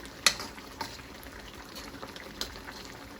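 Okra and fish cooking in a pot for Jamaican-style steamed fish, a quiet bubbling simmer with a couple of sharp clinks of a utensil against the pot, faint and close.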